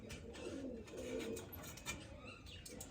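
Pigeons coo softly in the distance, a low repeated rolling coo under steady faint outdoor background noise.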